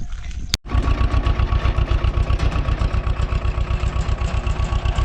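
A tractor engine runs steadily in a farm field during ploughing, its loud, close, rhythmic low chugging pulsing evenly after a brief dropout at the start, with no talk over it.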